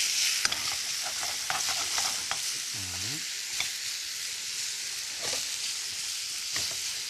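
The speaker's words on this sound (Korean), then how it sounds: "자, 이렇게 해서 어느 정도 볶아주시면요." Chili peppers are stir-fried in a pan, giving a steady hiss and sizzle with scattered clicks and scrapes of stirring, close and continuous, with no speech.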